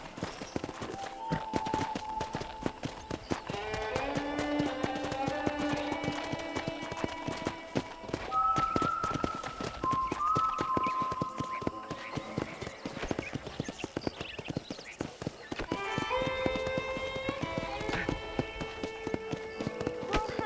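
Steady clip-clop of horse hooves at a trotting pace in Red Dead Redemption, continuous throughout, with background music or ambience layered beneath.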